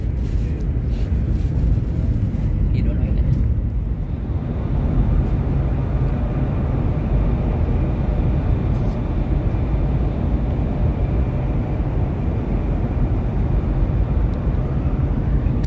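Inside a Whoosh high-speed train running at 350 km/h, a steady loud broadband rumble and rushing roar fills the cabin without letup, with no clear talk over it.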